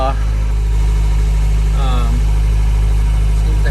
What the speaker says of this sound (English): Like I said, it's cold, so this is a cold start.